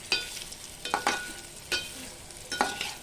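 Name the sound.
stirring and sautéing vegetable pieces in a pan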